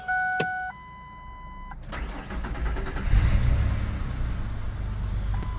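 A car engine cranks and catches after a plunger repair, preceded by a few electronic chimes, then settles into a steady idle around 1,000 RPM, close and moderately loud.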